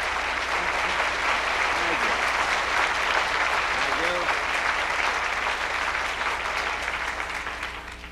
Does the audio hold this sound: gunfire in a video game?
no